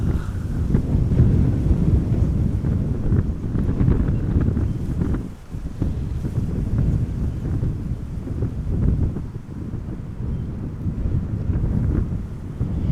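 Strong crosswind buffets the microphone at Amsterdam Schiphol Airport, a loud, continuous low rumbling roar that surges and dips without a break.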